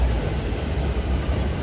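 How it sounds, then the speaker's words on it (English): An elevated Green Line train rolls past nearby, a loud continuous rumble and rail roar throughout with no speech. "Well, just a minute for the train."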